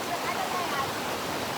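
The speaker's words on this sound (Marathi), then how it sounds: "आम्ही खऱ्या धबधब्यामध्ये तर आलेलो आहे." Waterfall at Tamhini Ghat, a steady broadband roar of falling water filling the whole moment without a break, close and continuous.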